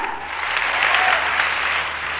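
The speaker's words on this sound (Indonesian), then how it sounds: "Tepuk tangan buat dia" A church congregation bursts into applause during a sermon, a short, full wash of clapping hands filling the room without any talk over it.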